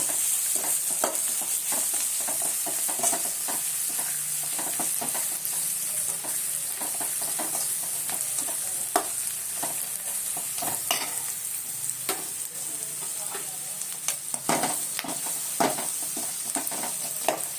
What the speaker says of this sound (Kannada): ಒಂದು ಅರ್ಧ ಸ್ಪೂನ್ ಅರಿಶಿನ, ಫ್ರೈ ಮಾಡ್ಕೊಳ್ಳಿ.